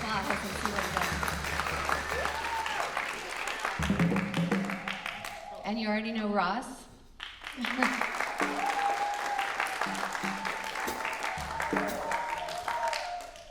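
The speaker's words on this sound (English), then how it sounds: "Y'all gotta give him bigger applause and see what he does." Audience at a Texas jazz and blues camp masterclass applauding the band members, a dense, continuous wash of clapping that carries on under a voice speaking over it.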